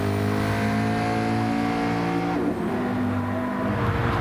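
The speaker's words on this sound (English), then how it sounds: "Walking through Sushi in that color shift 650S GT3. One of the better sounding V8 cars for McLaren." Loud, close McLaren 650S GT3 V8 race car in a racing video game at Brands Hatch, its engine held at a high, harmonic-rich roar, dropping briefly on shifts and pulling back up, with no talking.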